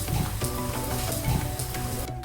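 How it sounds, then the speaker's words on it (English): A grilled cheese sandwich, butter on the outside of the bread, sizzles steadily in a pan over medium-low heat, a continuous close frying hiss with faint stirring or scraping noises and no talking. "You can hear that lovely sizzle coming through."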